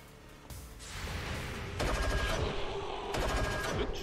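Gunfire in XCOM 2, loud bursts of automatic fire breaking in abruptly in several successive volleys, close and dense, with no talk.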